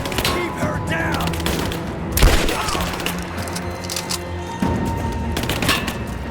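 Dense gunfire rattles through a firefight in Rise of the Tomb Raider, loud rapid bursts of shots and sharp cracks, with a heavy boom midway and renewed volleys after.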